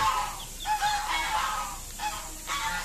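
Overlapping nasal calls from a group of egg-laying ducks carry on steadily and close by, with no speech.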